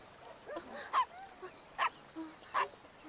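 A dog in the My Little Puppy video game barks and whimpers in three short, sharp yelps spaced about a second apart over quiet background sound.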